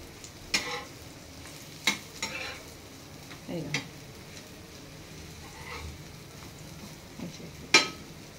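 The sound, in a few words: egg omelette with pepper frying in pan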